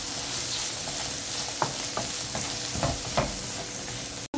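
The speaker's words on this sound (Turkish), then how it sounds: "Sonra salçamı koyuyorum ve pul biberimin bir kısmını koyuyorum. Tamamını koymuyorum. Ve karıştırmaya devam." Eggplant sizzles steadily in a pan with tomato paste and pepper flakes, a constant close frying hiss broken by repeated scraping and clacking strokes of a utensil as the mixture is stirred.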